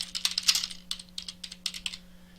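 Computer keyboard typing while a forum post is written, close and fairly quiet: quick irregular key clicks in short runs, with a faint steady hum underneath.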